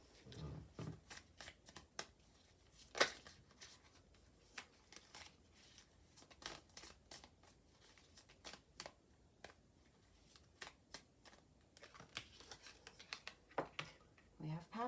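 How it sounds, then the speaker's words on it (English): Tarot cards are shuffled in a run of quick, crisp riffles and flicks, irregular bursts close to the listener with quiet gaps between them. "I've got cards flying all over the place."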